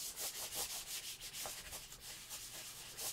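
Paper towel wiping furniture polish over a plastic games console, a steady run of close, rhythmic rubbing strokes with no voices.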